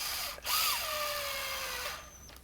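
Power screwdriver driving screws into the housing of a Walter 6141 D electric die grinder, a close, steady whirring drill tone that shifts pitch as the motor loads, one continuous run with a brief dip.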